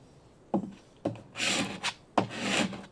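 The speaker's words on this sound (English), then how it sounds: "Now I am going to take this squeegee" A squeegee rubs vinyl and transfer tape onto a glass can in a few short, close scraping strokes separated by brief pauses.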